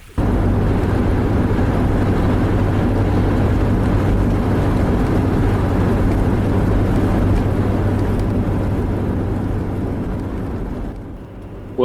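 A loud, steady engine drone and road rumble from inside a moving old Nissan Serena camper van on country roads, constant for most of the clip before easing slightly near the end.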